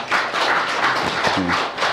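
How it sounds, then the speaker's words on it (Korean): A church congregation claps in welcome for visiting elders at a Sunday Presbyterian service, producing a loud, even patter of many hands throughout, with a low thump partway through. "박수하십시다"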